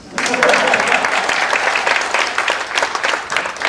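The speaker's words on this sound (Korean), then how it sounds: "여러분들 왜 박수 안 칩니까?" Applause from the audience at a public lecture by a Buddhist monk, thick and even clapping that swells quickly and holds loud for several seconds.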